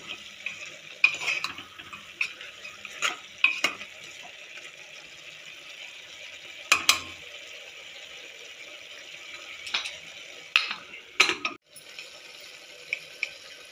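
Masala ingredients fry in a pan for a mutton drumstick curry, a continuous low sizzle punctuated by scattered spoon scrapes and clinks over several seconds, close and even.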